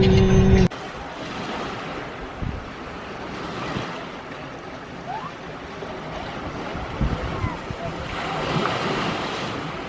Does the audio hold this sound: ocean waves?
yes